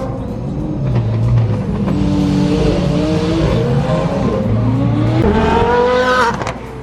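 A loud Porsche sports car engine revs and roars up through its gears, with other traffic rumbling around it and no talking.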